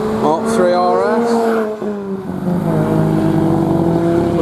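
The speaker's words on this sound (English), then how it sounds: "with a super loud Mini that's just gone by." A very loud Mini blasts past close by at a Ford RS owners' gathering, its engine note rising and falling in pitch as it goes, with a crowd and voices talking over it.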